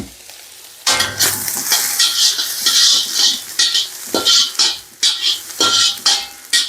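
Ginger garlic paste stir-frying in a pan for street-style egg fried rice with cabbage, a loud steady sizzle broken by repeated scraping stirs and bursts of spatula strokes, close and without talk.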